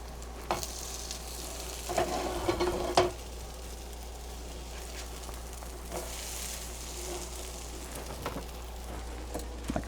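Leftovers fry in butter in a pan, a soft, steady sizzle running throughout with a few louder crackles and stirring scrapes, heard alone at a modest level.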